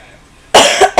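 Loud, close coughing: a couple of harsh bursts in quick succession after a moment of near silence.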